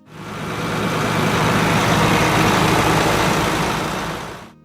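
A John Deere 4450 tractor from the 1980s runs with a steady, loud, low engine drone. The sound swells in near the start, holds even and fades out at the end.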